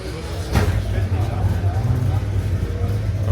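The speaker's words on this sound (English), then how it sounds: "The El Camino that fired up over there." A Chevrolet El Camino at an outdoor car show fires up, its engine settling into a steady low rumbling idle with a sharp start near the beginning, among crowd noise and voices.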